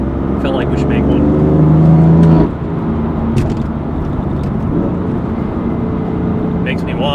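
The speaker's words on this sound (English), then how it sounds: "exhaust system that's stainless steel, and it sounds phenomenal in my opinion" A BMW F8X with a stainless steel aftermarket exhaust rumbling and revving up close, with a person talking over the engine throughout.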